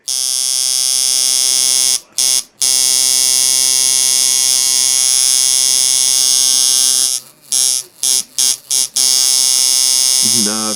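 A tattoo machine built with stilted coils and ringmaster parts runs at 6.4 volts, giving a loud, steady electric buzz that cuts out briefly several times before restarting.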